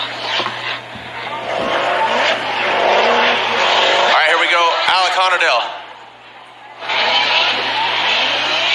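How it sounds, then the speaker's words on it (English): A Nissan S14 drift car rips through a Formula Drift qualifying run, loud engine roar and tire squeal sweeping past at big angle, with a commentator talking over the noise. "Ripping through, big angle there from Honadale."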